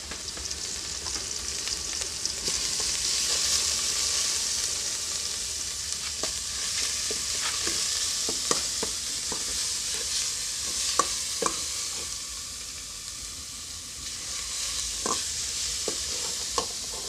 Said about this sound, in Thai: ก็เจียวเครื่องเทศก่อน